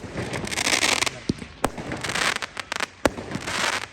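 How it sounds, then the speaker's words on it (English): Fireworks set off outdoors at a car crushing yard to celebrate a car starting: rapid crackling bursts and several sharp bangs over a few seconds, close and loud. "they put another firework for me."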